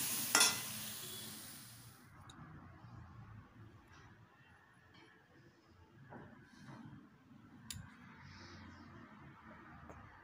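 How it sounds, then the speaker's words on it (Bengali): Cauliflower frying in a pan gives a faint, low sizzle with a few stirring scrapes and clatters after a sharp opening noise, with no voices. "এখানে তো ফুলকপি ভাজা হচ্ছে, ফুলকপি ভাজা হয়ে গেলে আমি তুলে নেব।"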